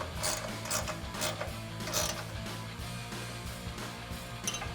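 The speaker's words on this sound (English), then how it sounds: "So then we'll grab a 14mm ratcheting wrench to tighten down our nut." A 14mm ratcheting wrench tightens a nut on a bolt of a full-width plate-style front bumper on a 2021-2024 Ford Bronco, giving quick runs of ratchet clicks over low mechanical hum, close and with no talking.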